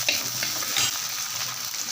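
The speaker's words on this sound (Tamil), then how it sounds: "இப்போ இதில் நம்ம சின்ன வெங்காயம் நறுக்கி வச்சுருக்கேன், அதை போடுறேன்." Chopped small onions (shallots) sizzle steadily in hot oil in a pan while being stirred, a close, continuous frying crackle for a lentil-ball curry made with toor dal.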